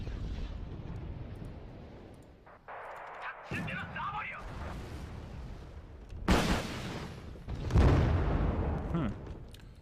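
Helicopter rocket pods firing in Wargame Red Dragon, a series of sharp whooshing launches and booming impacts scattered across the clip, loud against battle rumble, with someone talking between bursts.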